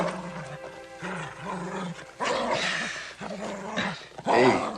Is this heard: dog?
yes